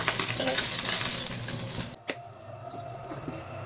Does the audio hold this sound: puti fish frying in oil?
yes